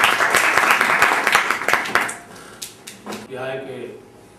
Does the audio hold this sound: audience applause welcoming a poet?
yes